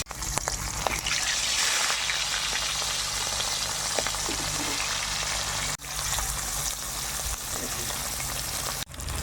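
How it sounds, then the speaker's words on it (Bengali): Rohu fish pieces fry in hot oil in a wok, giving a loud, steady, close sizzle that runs almost without a break, with brief dips and faint background sounds. "মাছগুলো ভাজা হয়ে গেছে, নামিয়ে নেব"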